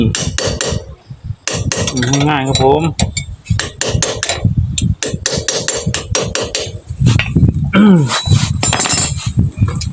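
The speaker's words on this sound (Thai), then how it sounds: "ตอกไปเลยครับ" A hammer drives a seal into a motorcycle part during a repair. Repeated sharp metallic blows land in uneven bursts, close and loud, while someone talks between and over the strikes.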